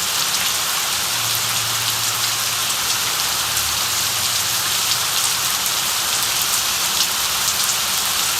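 Heavy rain pours steadily and loudly on a surface, a dense, constant hiss with no letup and no voices.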